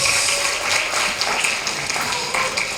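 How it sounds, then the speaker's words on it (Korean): A lecture audience applauds after a humanities talk, making a continuous, even wash of many hands clapping at once that holds steady across the whole stretch. "다시 한번 열정적인 강의를 해주신 정몽묘 선생님께 큰 박수 부탁드립니다."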